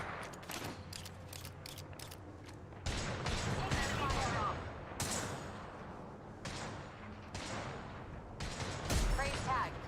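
Rapid gunfire in the shooter Apex Legends, clusters of sharp cracks and bursts recurring across the stretch, close and loud, with speech heard intermittently.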